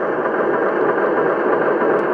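A Lionel Vision Line Baldwin Centipede model locomotive gives off a steady, continuous diesel engine rumble from its onboard sound system, moderately loud and even throughout, with no talking.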